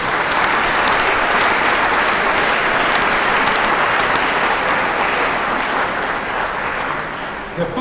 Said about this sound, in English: I think you should be clapping your hands, you young guys.